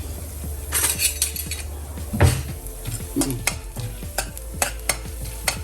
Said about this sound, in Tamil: இப்போது இதை வறுக்கலாம்.